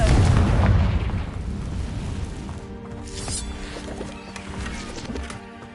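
A Confringo blasting curse explodes in Hogwarts Legacy with a loud, heavy boom right at the start, then fades into rumbling debris and scattered crackles.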